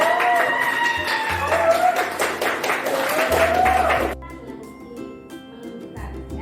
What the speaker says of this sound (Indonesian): Kita aplaus untuk Lisa.